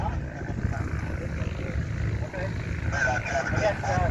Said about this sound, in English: Cool little plane.